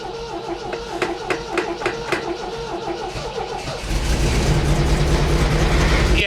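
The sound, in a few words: car engine with Weber carburetor revving at 4,500 RPM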